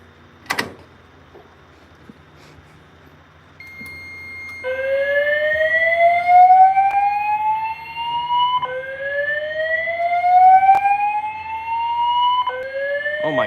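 A building fire alarm sounds repeating rising whoop tones, each sweep climbing for about four seconds before restarting, loud and steady after a sharp click and a quieter lead-in.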